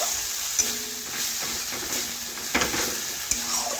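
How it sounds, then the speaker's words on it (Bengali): Spice masala with water being stirred and fried in a pan for a chicken dish, with a soft continuous sizzle broken by several spoon scrapes and sharp clinks against the pan, no voices. "এখন জলটা ভালোভাবে নাড়াচাড়া করে মশলার সাথে মিশিয়ে একটু কষে নেব"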